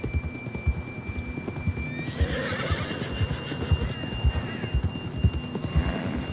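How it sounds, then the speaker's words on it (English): A horse in the Red Dead Redemption II video game clip-clops along at a steady pace with close hoofbeats, and a loud neigh rises partway through over faint ambient hum. "John was riding that horse when we left Blackwater."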